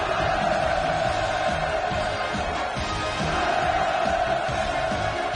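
A large crowd cheers at the inaugural ceremony of the Wonsan Kalma Coastal Tourist Area, a dense, sustained roar of many voices that holds steady throughout, heard as one massed sound.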